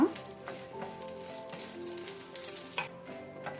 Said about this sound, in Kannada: ಮೆಣಸು ಉಬ್ಬೋ ತನಕ ನಾವು ಲೋ ಫ್ಲೇಮಲ್ಲಿ ಇದನ್ನು ಹುರಿಯುವ